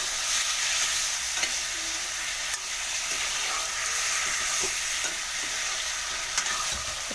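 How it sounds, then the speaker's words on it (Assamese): Pork fried with turmeric in a pan, a constant loud sizzle with steady scraping stirs and a few knocks of the spoon, heard alone without any talking. "মাংসখিনি ভালকৈ ফ্ৰাই কৰি ল'ম।"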